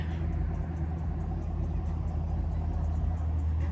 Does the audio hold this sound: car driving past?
yes